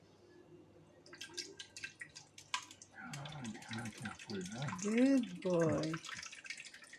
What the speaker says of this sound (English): I like that sound of the water actually